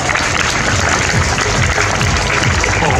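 Loud, warm applause from a school audience of children and guests for a town mayor and staff, steady and close throughout, with faint voices mixed into the clapping.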